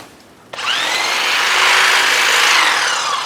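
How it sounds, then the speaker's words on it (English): A power saw bites into small hardwood branches, starting abruptly and then holding a loud, steady, rasping whine close by with no talking. "I want to trim out some of these smaller branches."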